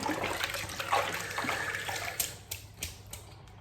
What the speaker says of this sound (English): I'm gonna rinse this brush.